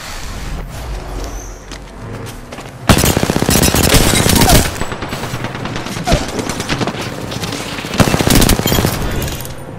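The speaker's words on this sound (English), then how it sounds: "I'm taking shots." Automatic gunfire in a ranked solo match of a battle royale shooter game, with loud sustained bursts of rapid shots around the three to four and a half second mark and again near eight seconds, over steady game ambience.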